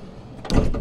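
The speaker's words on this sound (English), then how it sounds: "Electric step, when you open up the side door," Side door of a used 2024 Swift Carrera 122 caravan opening as its electric step deploys, a brief mechanical slide and clunk rising after a quiet start, close by and fairly loud.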